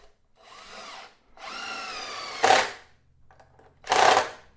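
A power drill drives screws into a wooden bench made of concrete blocks and lumber, giving several separate whirring bursts: two longer runs and then two short, loud spurts with pauses between them, close by.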